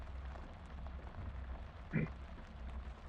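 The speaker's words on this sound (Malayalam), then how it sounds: "നല്ല മഴയാണ്, രാത്രിയാണ്, നല്ല മഴയാണ്." Video game heavy rain at night: continuous rain hiss with a low rumbling bed, a brief louder swell near the middle; no clear speech.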